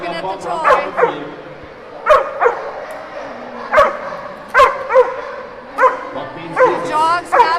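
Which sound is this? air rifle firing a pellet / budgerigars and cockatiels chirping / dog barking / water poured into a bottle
dog barking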